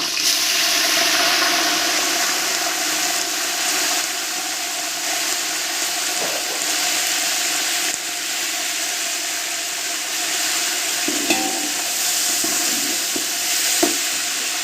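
Mint leaves fry in hot oil for a large batch of chicken biryani, a loud, continuous sizzle up close with occasional clinks and scrapes of a stirring utensil.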